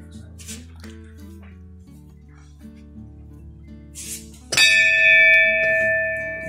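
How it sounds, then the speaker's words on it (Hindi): A Hindu temple bell at Kali Chaur temple in Haldwani is struck once, ringing out loud and sustained after soft clinks and background bustle. "गौरव सर ने बजा दी घंटी"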